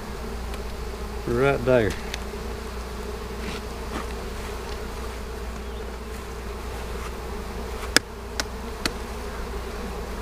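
Honey bees buzz steadily on a hive frame from a queenless box, a dense continuous drone throughout, with a brief louder rise near the start, a few sharp clicks later and a short spoken remark.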